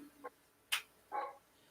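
A dog barks in the background, giving two or three short, sharp barks spaced apart, faint and distant, with no talk over them.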